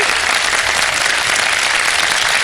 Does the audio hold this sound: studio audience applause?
yes